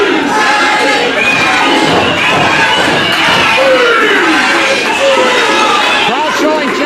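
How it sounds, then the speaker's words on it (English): A wrestling crowd reacts with loud, anxious murmuring and scattered shouts after two wrestlers crash onto the floor, a dense continuous roar of voices throughout. "Crowd showing genuine concern."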